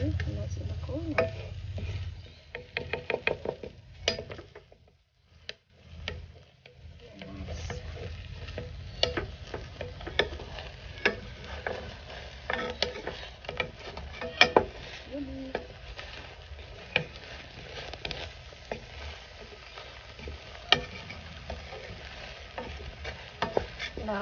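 An egg and organic zucchini omelette fries in a pan with a steady close sizzle. Irregular ticks and scrapes come from swirling the pan and the utensil.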